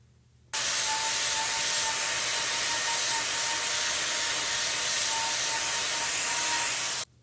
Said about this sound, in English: So we're going to get this trimmed up, and then we're going to let her go.